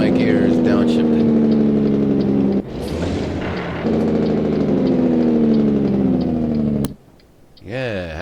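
Simulated big-rig truck engine in American Truck Simulator, a loud continuous diesel drone whose pitch drops and surges as gears are floated down, with a brief dip near the end before revving back up.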